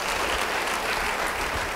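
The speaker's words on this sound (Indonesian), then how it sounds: "Beri tepuk tangan yang baik bagi dia." A congregation applauds a preacher during a sermon, a brief burst of dense, continuous clapping from a crowd with no talking.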